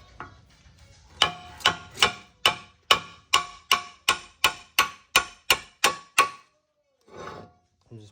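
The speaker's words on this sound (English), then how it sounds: "Hammer this out." A hammer strikes metal while driving out the front lower ball joint of an Acura RSX Type S, about a dozen sharp, ringing blows in a steady rhythm, close and loud, followed by a brief rustle.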